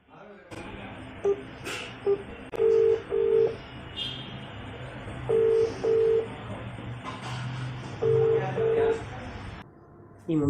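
A phone dials out with a string of short electronic keypad tones in bursts, followed by ringing tones while a call is placed, heard under quiet talking.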